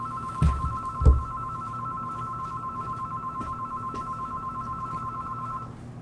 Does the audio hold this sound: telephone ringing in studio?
yes